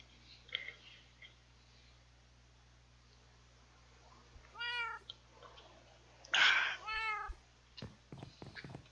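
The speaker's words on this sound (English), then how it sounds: "Why do I keep hearing cats?" Cats meow repeatedly in Minecraft, a black cat and a white cat, with several distinct clear meows spaced out over a quiet game background, one louder and closer than the rest.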